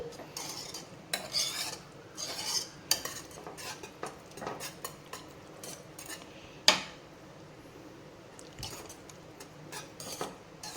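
A spoon scrapes and stirs thick fenugreek kali in a pot on the stove, giving close, intermittent rasping strokes with occasional sharp metallic knocks against the pot, and no voices.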